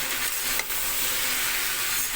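Onions and tripe fry in a pan without being boiled first, giving a steady, close hissing sizzle that runs evenly throughout with no voices.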